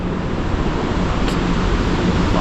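Heavy waterfall near the Zimbabwe-Zambia border, a steady broadband roar of pouring water that stays constant and dense throughout, with no voices.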